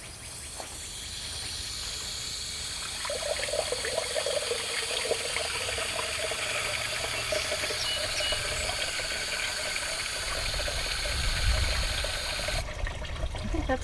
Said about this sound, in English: we're going to pour water in the upper part of the radiator and watch until it comes out clear from the bottom